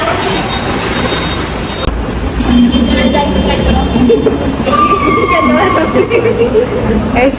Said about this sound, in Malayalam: നമ്മൾ മെട്രോ കയറാൻ പോവുകയാണ്.